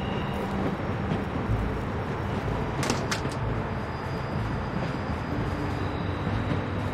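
A moving train in The Walking Dead season 1 episode 3 video game, a steady loud rumble of wheels and carriage with a brief metallic clank partway through, continuous and close throughout.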